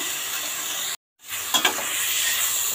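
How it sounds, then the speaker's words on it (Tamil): Chopped onions and tomatoes sauté in a pan for a fenugreek-leaf masala, a steady close sizzling hiss that cuts out for a moment, then resumes with a few soft stirring clinks. "இன்னும் சீக்கிரமாகவே நம்மளோட வெங்காயம், தக்காளி நல்லா வதங்கிடும்"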